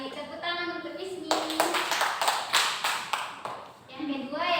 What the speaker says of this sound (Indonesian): Tepuk tangan untuk Ismi